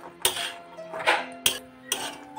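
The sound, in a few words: stirring peas into spice masala in a pan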